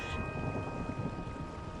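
Steady heavy rain pours through a stormy night with a low rumble of thunder beneath it, dense and continuous without a break.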